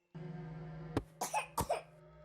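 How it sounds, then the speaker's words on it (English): A girl character in the video game Bad Dream Fever coughs several times in sharp, close bursts over a steady low musical drone, with no talking. "I can just grab it while she's coughing?"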